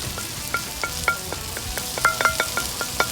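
Shredded coconut stirred through a masala mixture in a frying pan, soft sizzling with short scraping strokes of a spoon repeating at an irregular rhythm, close and moderately quiet.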